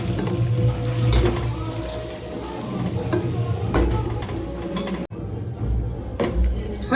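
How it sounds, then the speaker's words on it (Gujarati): Water is added to a spice paste frying in a pan for a Kathiyavadi dhokali curry, with splashing and sizzling under a constant kitchen hiss, plus a few sharp clinks of utensils and one brief dropout. "પેસ્ટ થોડી સંતળાઈ જાય ત્યારે તેમાં થોડુંક પાણી ઉમેરી લઈશું."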